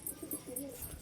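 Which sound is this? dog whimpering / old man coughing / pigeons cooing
pigeons cooing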